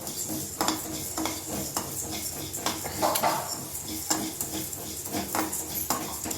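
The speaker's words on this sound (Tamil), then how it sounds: "இப்போ வந்து மல்லி வந்து வறுத்துருச்சு" Coriander seeds dry-roasting in a pan, with rapid scraping and rattling strokes of a spoon against the metal, a faint crackle underneath, close by.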